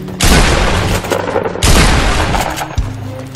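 Loud, booming gunshots in Fortnite, likely a double-barrel shotgun: two heavy blasts with long rumbling tails, a third lighter shot near the end, and no talking.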